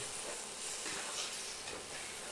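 A pot of chicken and chicken liver on the stove right after the lid comes off, a steady hiss and sizzle of steam and frying filling the whole moment, close and continuous with no talking.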